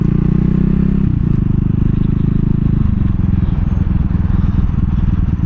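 A 2022 CCM Spitfire Bobber motorcycle being ridden on the road, its engine giving a loud, steady low throbbing rumble that shifts pitch partway through, running continuously throughout.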